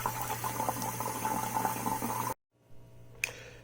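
Steady running water pours over freshly picked zucchini flowers being rinsed, a continuous close splashing that suddenly cuts off, followed by quiet handling and a single light knock.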